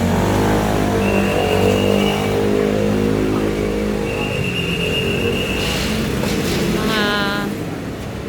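Heavy truck engine rumbling steadily close by at a construction site in Taiwan, a deep continuous drone that fades slightly toward the end, with faint high tones and chirps above it.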